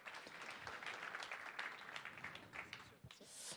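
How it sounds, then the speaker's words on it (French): Audience applause at a startup conference on AI fundraising, a steady wash of many hands clapping that holds for several seconds, with a brief louder swell near the end. "Applaudissements."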